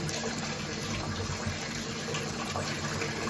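A tap runs with a steady, close gush of water, continuous and fairly loud, with no voices over it.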